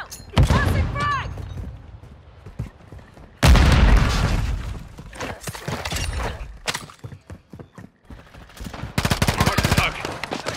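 Grenade blasts and gunfire in a multiplayer shooter video game, with a loud boom near 3.5 s amid bursts of rapid fire and shouted in-game voice callouts.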